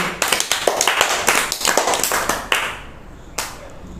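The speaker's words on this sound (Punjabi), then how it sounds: "ਤਾੜੀਆਂ ਮਾਰੋ ਸਾਰੇ ਜਣੇ" A group of children claps together in quick, slightly uneven bursts, close and lively, with a few final claps trailing off at the end.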